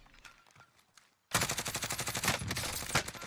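Heavy rapid gunfire in a Warzone match, starting abruptly after near-silence and continuing as a loud, dense barrage of shots with quieter scattered pops beforehand.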